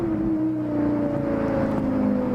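A Lexus LFA engine plays from a video at a steady high-pitched wail, a smooth sustained tone slowly sliding in pitch, moderately loud and continuous with no talk over it.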